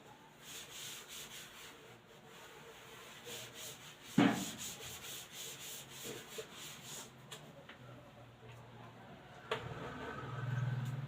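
A writing board being rubbed clean of previous content, a continuous soft scratchy rubbing with one sharper knock partway through, faint and close.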